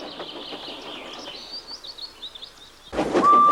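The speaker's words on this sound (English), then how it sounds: "The sound of birds in the background may be the best example" Background birds from a Thomas & Friends episode chirp in quick, fluttering bursts for about three seconds, light and somewhat distant, before a louder, fuller sound abruptly takes over with a steady tone.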